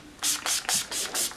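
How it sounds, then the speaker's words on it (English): Urban Decay All Nighter setting spray misted onto a face in five quick hissing bursts, close and loud, with short gaps between them and no talking. "I typically use the Urban Decay All Nighter spray."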